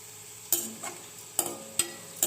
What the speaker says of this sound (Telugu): ఇలా ఆనియన్ మొత్తం గోల్డెన్ కలర్ వచ్చేదాకా వేపుకోవాలి ఫ్రెండ్స్.